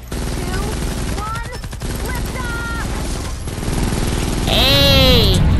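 Rapid light-machine-gun fire in Fortnite Save the World, a dense continuous rattle of shots close and loud, with voices talking over the burst and an electronic tone rising near the end.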